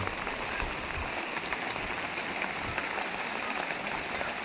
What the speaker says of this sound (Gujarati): વરસાદ આપણે ચાલુ છે અત્યારે